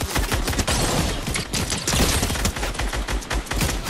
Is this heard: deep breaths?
no